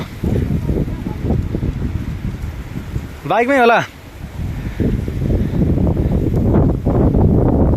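Strong windstorm roaring steadily around a village house, heavy gusting noise under a man's speech, with a short sharp tonal sound cutting through midway before the wind surges again.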